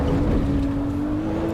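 A racing car engine in the video game Assetto Corsa EVO or Forza Motorsport 8 drones at a steady, thin pitch with little low rumble, holding a sustained whine for the whole short stretch.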